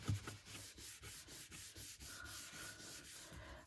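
Folded cardstock is rubbed firmly by hand to press a glued flap shut: steady, close, papery scraping strokes repeat in an even back-and-forth rhythm for the whole stretch, with no voices.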